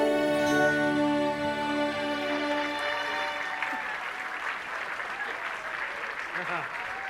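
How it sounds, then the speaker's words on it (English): Applause breaks out for a pair of musicians after a song ends, sustained sung and instrumental tones fading away as scattered clapping rises and continues to the close. "And a big round of applause for them"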